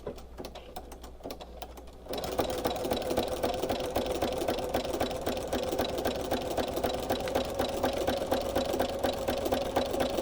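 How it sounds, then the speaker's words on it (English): A sewing machine with a guide bar foot stitches evenly spaced quilted rows, starting after a brief quieter moment and then running in a steady, continuous rapid mechanical chatter. "this handy guide bar will stay exactly in its spot, so I will stitch rows evenly every time"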